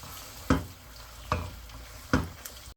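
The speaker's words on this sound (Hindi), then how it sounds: "चिकन को हल्का सा ब्राउन होने तक पकाएंगे। फ्लेम हमने हाई रखना है।" Chicken sizzles and fries in a karahi over a high flame, with three distinct stirring scrapes set against a steady background hiss.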